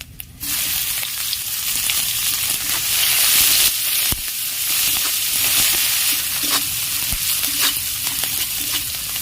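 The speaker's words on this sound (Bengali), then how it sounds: "এর মধ্যে এবারে পেঁয়াজ কুচিটা দিয়ে দেবো" Chopped onion hits hot oil with cinnamon, cardamom, cloves and mace in a pan, giving a loud, steady close sizzle with occasional scrapes of stirring throughout.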